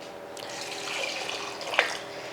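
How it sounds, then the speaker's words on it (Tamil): Water is poured generously into a cooking pot already holding turmeric and cumin, a rushing splash that swells over a couple of seconds with a brief clink near the end, close and alone. "இப்போ தண்ணி ஊற்றிடலாம். நல்லா தாராளமாகவே தண்ணி ஊற்றிக்கலாம்."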